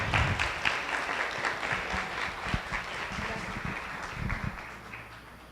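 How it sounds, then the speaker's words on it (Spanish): Audience applause welcoming a doctor to the stage at a university science lecture, a sustained crowd clapping that fills the room and slowly tapers off. "recibamos con un fuerte aplauso a la doctora Rosa Isela"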